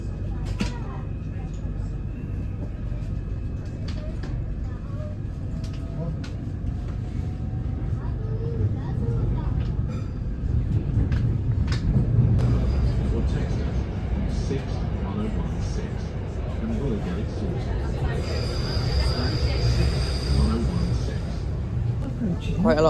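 A Merseyrail train bound for Hunts Cross runs through a tunnel and covered cutting, giving a low continuous rumble and rattle that swells midway, with faint squeals and a high whine near the end.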